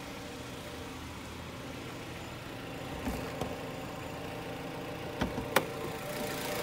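A 2017 Jeep Compass's 2.4-litre four-cylinder engine idles with a steady low rumble, joined by a few faint clicks and knocks nearby.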